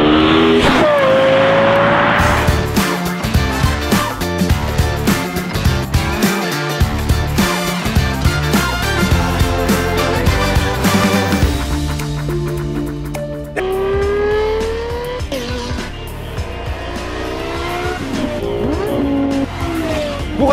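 A Lexus LFA with its V10 engine revs hard and loud, rising in sharp high-pitched sweeps through the gears, with shifts and fresh climbs in pitch, close and continuous.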